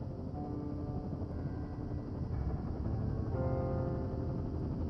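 In the video game Firewatch, a helicopter arrives, its low rotor thrum droning steadily at a moderate distance and swelling slightly toward the end, alone without talk.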